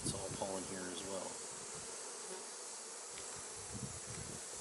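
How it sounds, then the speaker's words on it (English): Honey bees laden with pollen buzz in a dense, steady drone at a beehive, close and continuous, with several individual bees whining past nearby. "That looks to be a lot of bees with pollen on them"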